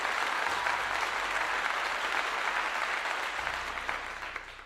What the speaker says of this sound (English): A clap to you.